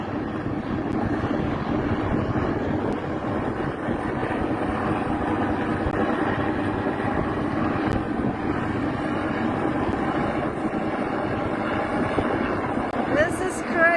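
A search and rescue helicopter hoists crew off a yacht stranded on rocks, its rotor and engine making a steady, loud roar through the whole stretch while people talk over it.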